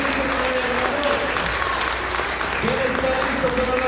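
A congregation at a prayer and intercession group meeting applauds in a sustained, dense burst of clapping while voices call out and speak over it throughout.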